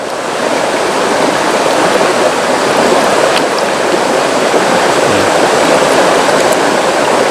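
Water rushes steadily through a rice-field irrigation channel, a loud, dense, unbroken gurgling wash close by with no talk.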